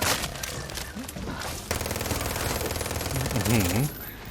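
Automatic gunfire from the game Far Cry 6, dense rattling bursts that keep going for several seconds, loud and close, with game sounds and a few voices mixed in.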